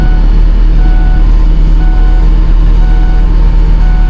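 A vehicle engine runs loud and steady at close range, a continuous low rumble with a faint high whine throughout and no talk.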